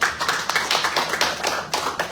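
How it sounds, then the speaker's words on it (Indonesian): A church congregation claps hands in a lively, fairly regular rhythm, close and moderately loud for a brief stretch. "Berikan tepuk tangan untuk Tuhan, saudara."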